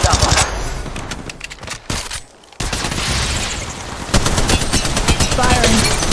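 Rapid bursts of automatic gunfire in the mobile battle royale game Apex Legends Mobile, loud and dense, with a brief drop near the middle before the shooting resumes and intensifies.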